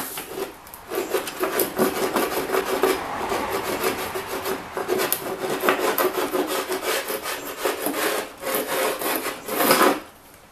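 A razor-blade scraper dragged steadily across a surface: continuous close, rough rasping strokes that swell and fade for about ten seconds, with no talking.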